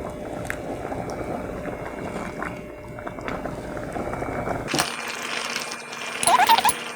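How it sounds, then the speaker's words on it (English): Korean rice cake soup is ladled and poured into a big serving bowl, a soft liquid pour and splash following a sharp clatter, with kitchen bustle and a brief clink near the end. "And pour it."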